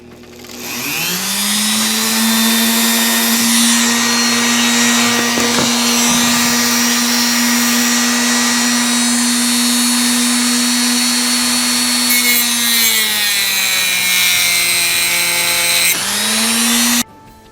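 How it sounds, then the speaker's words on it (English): A high-speed Dremel rotary tool cutting metal on a 1979 Dodge van whines steadily for over ten seconds, its pitch dipping slightly under load before spinning down and briefly revving again. "I got that piece cut out with the Dremel."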